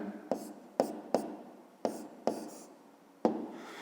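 Letters written by hand, probably with chalk or a pen on a board, during a fifth-grade geometry lesson: six sharp, separate strokes at irregular intervals, each a short scratchy tap with a brief tail, close and fairly quiet.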